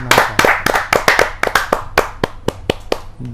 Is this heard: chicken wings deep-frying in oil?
no